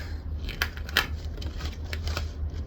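Dull scissors snip thread tails on a sewing project in printed waterproof canvas, a few close, sharp cuts spaced irregularly over a low steady hum.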